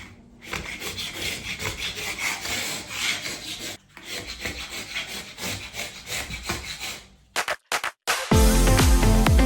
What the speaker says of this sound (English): I've got to scrape off these lumps.